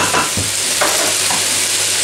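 Finely diced bell pepper sizzles steadily in a hot pan, a loud continuous frying hiss with a few scraping stirs, close up.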